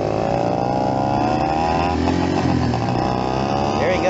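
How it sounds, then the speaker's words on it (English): A Yamaha two-stroke motorcycle engine runs nearby with a continuous loud buzzing drone and a slight waver in pitch as the throttle shifts, while a voice speaks over it. "Two-strokers don't like to idle too good."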